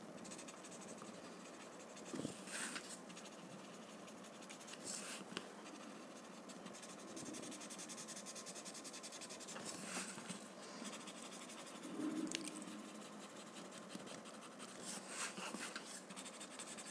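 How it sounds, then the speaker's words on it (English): Graphite being blended on paper, a steady soft scratchy rubbing that continues throughout, close and quiet, with a few slightly louder strokes. "So now I'm going to blend the graphite inside on both sides."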